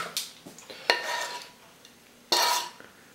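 Two tablespoons clink and scrape against a pan of caramel, with several distinct metallic hits, the loudest two ringing briefly, separated by quiet gaps and no speech.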